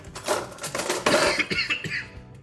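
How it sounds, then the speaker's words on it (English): Someone coughs several times in a quick, harsh burst while baking brownies indoors, loud and close, with no talking. "Just coughed into the mix."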